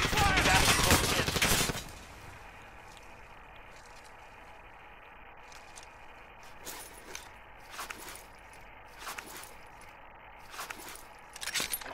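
Enemy gunfire in Call of Duty: Warzone opens with a loud, dense burst up close, then gives way to sporadic distant shots and scattered clicks against a quiet background.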